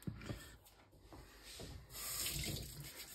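Hands are wet under a running tap while shaping sourdough sandwich loaf dough, a soft splashing stream with rubbing and brief handling noises, quiet and close.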